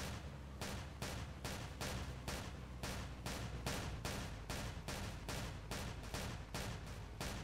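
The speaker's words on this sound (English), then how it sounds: "I instantly heard the gunshots." Rapid gunfire during a drive-by from a truck in the Roblox game Ultimate Driving: loud, evenly spaced shots repeat about three times a second in a steady, unbroken volley with no talking.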